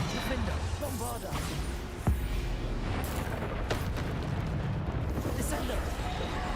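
Bombarda explosion spell going off during combat in Hogwarts Legacy, with a dense, loud stream of blasts and a sharp boom near the middle, all under a steady wash of battle noise and voices.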